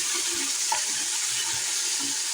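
Pieces of mutton fry in spices in a pan as their water cooks off, producing a continuous bright sizzling hiss with occasional soft stirring knocks, close and even throughout.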